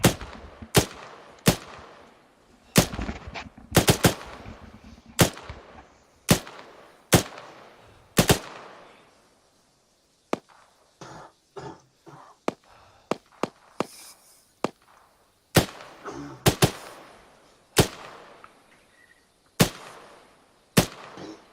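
Rifle fire in the video game Arma 3, sharp loud single shots at a steady spaced rhythm with short bursts, several quieter distant cracks in the middle, no talking.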